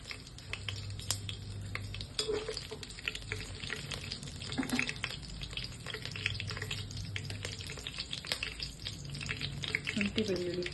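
Whole pulao spices fry in ghee and oil, a faint steady sizzle with soft crackles and occasional stirring clinks throughout.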